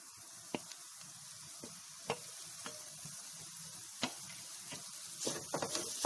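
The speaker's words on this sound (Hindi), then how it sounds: "इसको भी अच्छे से मिक्स कर लेंगे" A potato and onion mixture with spices is stirred in a pan. Soft, faint scraping and occasional spoon taps sit over a quiet background sizzle, and the sharper knocks come near the end.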